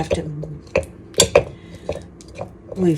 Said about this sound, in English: creaming the butter, okay, which is you take the back of the spoon and you rub it against the sides